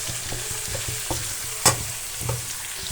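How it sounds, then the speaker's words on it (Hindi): Potato and tinda pieces fry in a pan with a steady sizzle, broken by intermittent soft stirring scrapes and one sharper clatter midway, close and moderately loud with no talk. "अब आपने इसको 5 मिनट तक इनको फ्राई करना"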